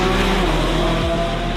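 A Lamborghini Revuelto with an 8-speed double-clutch transmission roars loudly on a race track, its engine droning steadily and close for under two seconds. The engine note drops slightly near the end.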